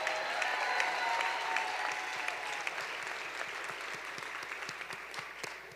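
Audience applause at a charity gala dinner, a broad crowd clapping that starts full and slowly thins, with a few close, crisp claps standing out near the end.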